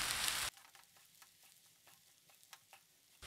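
A spoon scrapes and clicks through rice in a hot pan on low flame in soft, irregular strokes under a faint sizzle, after a brief burst of loud noise at the start.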